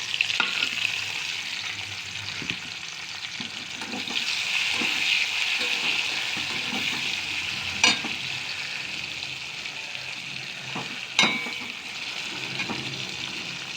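Lightly pre-fried onions sizzle steadily in oil with garam masala and dried red chillies for a chicken curry, a constant close frying hiss broken by occasional sharp spatula scrapes against the pan.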